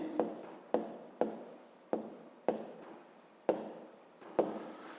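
Marker or pen writing on a board during a maths lesson, several repeated strokes with sharp onsets and decaying scratchy tails, close and fairly quiet, with no talking.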